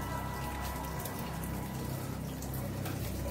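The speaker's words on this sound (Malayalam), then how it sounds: "വെള്ളം ഇങ്ങനെ ഒറ്റിക്കൊണ്ടേയുണ്ട് ഇവിടുന്നൊക്കെ." Steady water dripping and trickling at the mouth of a cave with a perennial spring, a dense continuous patter of drops heard close up with no voices.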